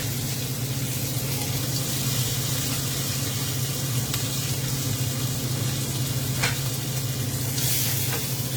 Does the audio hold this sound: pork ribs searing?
yes